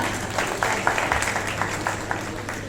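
An audience at a political workers' convention in Hyderabad claps in a steady, dense patter of applause that continues evenly throughout, with no talking over it.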